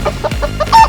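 A cartoon hen clucks in a Tamil animated moral story, giving a few quick, close, moderately loud clucks in a rapid broken rhythm with no talk.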